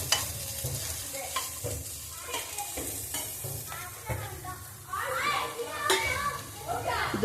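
Spices frying in a pan for country chicken sambar, a soft sizzle with stirring scrapes while someone talks and children chatter in the background.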